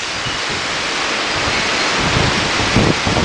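Strong wind gusting outdoors, a loud steady roar buffeting the microphone, with no talk.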